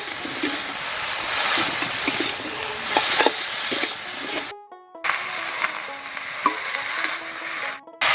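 Dry fish with salt and turmeric being mixed in a pan: steady frying sizzle with scraping and clattering strokes of a spatula, close and moderately loud, briefly cut out by two short silent gaps.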